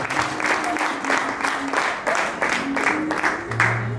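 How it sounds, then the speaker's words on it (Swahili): Church congregation applauding for Jesus during a worship service, steady crowd clapping filling the room with a voice calling over it. "Pigia Yesu makofi mazuri"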